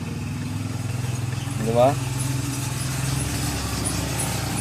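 A loose, worn bearing rattles noisily on a Supremo motorcycle, a steady close-up clatter over a low running hum, with someone talking over it.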